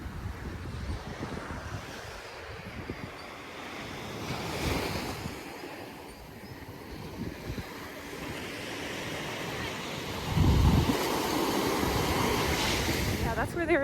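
Ocean surf rolls onto Chicks Beach, a steady wash of breaking waves mixed with wind buffeting the microphone; a stronger wave crashes near the end, with a faint voice in the background.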